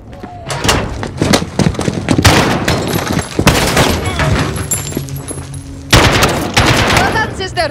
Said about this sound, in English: Point and shoot until they fall